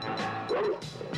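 Doberman dogs in a film junkyard bark and yip in quick overlapping bursts, close and loud, with a short whimpering cry mixed in among the barks.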